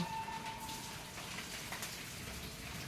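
A soft, steady hiss of morning rain falls outside a home, with wind blowing, continuous and fairly faint throughout.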